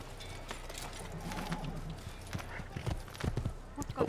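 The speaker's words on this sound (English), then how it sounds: "Alright, let's quickly mount a horse." Horse hooves clop in an Assassin's Creed video game, a faint, uneven run of soft hoofbeats over low ambient game sound, with brief stronger knocks near the end.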